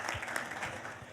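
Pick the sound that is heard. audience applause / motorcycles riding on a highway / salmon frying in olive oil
audience applause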